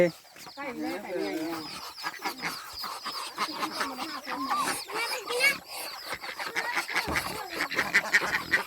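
Ducks quack repeatedly near a rice field hut during upland rice sowing, their calls mixed with people talking throughout.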